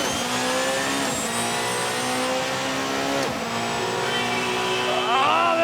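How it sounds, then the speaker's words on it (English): A race car engine screams at high speed with a whining, futuristic hybrid tone, pitch shifting as it drives on, loud and close. "It's got that sort of spaceship noise there from the hybrid"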